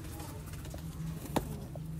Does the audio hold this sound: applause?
no